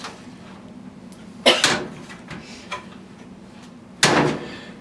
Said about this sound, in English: so now we'll close the door